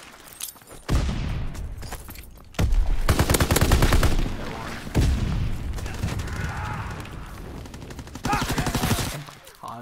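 Gunfire in a shooter video game, bursts of rapid automatic fire and loud cracking shots with explosive booms, coming in dense volleys with brief gaps.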